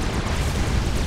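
Mobile artillery shells exploding in Forged Alliance Forever, a dense, continuous rumble of overlapping booms with no gaps between impacts, loud and heavy in the low end, with no voices.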